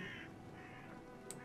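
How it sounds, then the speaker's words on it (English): Crows caw in the horror game Amnesia: A Machine for Pigs, faint and distant over a quiet low ambient hum, with a few hoarse calls and a brief sharp tick near the end. "Why did crows scare me?"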